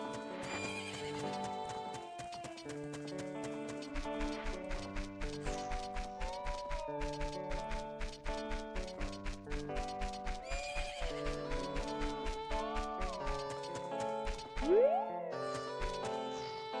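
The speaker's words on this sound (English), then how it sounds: "I want to ride a horse." Horse in the video game Horizon Forbidden West, steady clip-clop hoofbeats with repeated neighs and whinnies over a soft musical background, clear and fairly close.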